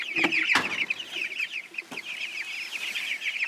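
Chickens cluck and chatter near a coop on a small hill, a busy, continuous stream of short squawks and clucks with a couple of sharper louder calls early on, close and fairly loud, with no talking over them.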